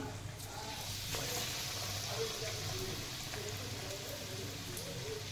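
Vada batter frying in hot oil over a low gas flame makes a steady, even hiss with faint bubbling crackle that runs throughout at moderate level, and no one speaks.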